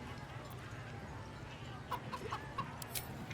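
Chicken clucking in the Baldur's Gate 3 video game, a few short clucks midway over a low background ambience.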